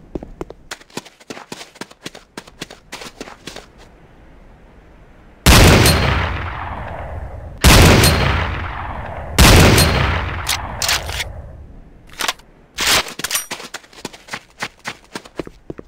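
Gunfire rings out at shooting range targets in the video game Command & Conquer: Renegade, with sharp single shots and several loud reverberant blasts in between.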